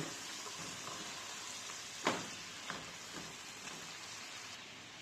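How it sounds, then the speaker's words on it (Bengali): Hilsa fish frying and being cooked down in a pan for a pumpkin curry, a steady broadband sizzle with a sharp clack near the middle and a few softer knocks after it. "দিয়ে দিচ্ছি মাছ, মাছকে ভালোভাবে কষিয়ে নিব"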